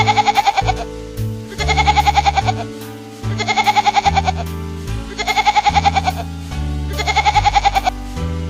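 Goat bleating in five loud, close, wavering calls spaced regularly, each a quivering nasal cry over a steady low background hum.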